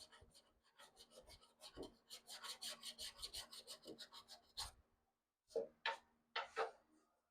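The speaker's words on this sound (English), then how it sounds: "I got some 120 grit on my sanding block here, and I'm just going to use this to kind of start feathering it in" A 120 grit sanding block rasps over body filler on a Triumph Spitfire, a steady rhythm of close, scratchy back-and-forth strokes that stops briefly, then returns for a few harder passes.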